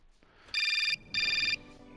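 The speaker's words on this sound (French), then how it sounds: "Oh non, beaucoup de coups de téléphone, hein." A telephone rings in the video game Syberia Remastered, two bright electronic trills with a short gap between, crisp and fairly close over a quiet room.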